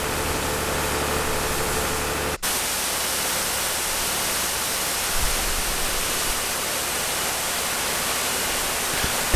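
A tractor-mounted wash boom extending 35 feet on the front of the tractor sprays water in a steady, continuous hiss that cuts out abruptly early on and then resumes, broad and unbroken, with no voices.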